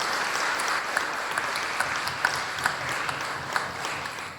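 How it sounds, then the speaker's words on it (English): An audience applauds a singer who has travelled from Iran, a dense, steady wash of clapping at a community gathering in East Belfast, with a few louder individual claps rising above it and no talking. "Give her a big round of applause,"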